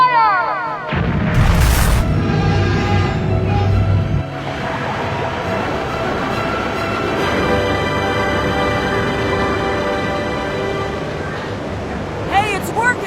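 Ship's cannon barrage in an anime sea scene, fired at rocks so the recoil pushes the vessel back: a loud deep boom opens, followed by a long rumbling roar with creaking tones and a sharp burst near the end. Voices are present.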